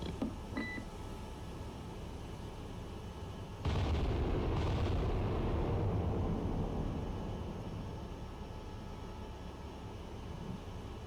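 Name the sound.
battleship USS Iowa guns firing in video game Cold Waters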